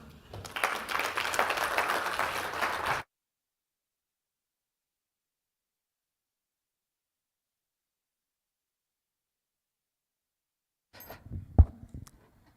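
Brief applause welcoming a speaker at a Pan-African tax conference, lasting about three seconds before cutting to silence, followed near the end by a few faint knocks and handling sounds.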